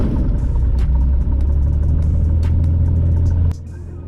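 A small airplane's propeller engine idles at quarter throttle before taxi at Doylestown, a loud, steady low rumble that drops off abruptly near the end.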